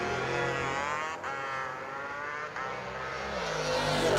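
At a drag-racing starting line, a Willys race car and a motorcycle roar loudly and continuously, engines revving with brief dips and a final swell, no talking.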